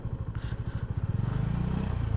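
Motorcycle ridden slowly over a rough, dusty, partly wet landslide-damaged mountain road between Shimla and Kalpa, its engine a steady close throb with pulsing low rumble and light clattering throughout.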